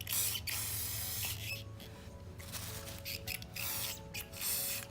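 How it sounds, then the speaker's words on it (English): Spray paint hisses from an aerosol can in short repeated bursts, a loud, steady airy spray pausing briefly between blasts, close up. "You got to be really careful with this spray paint."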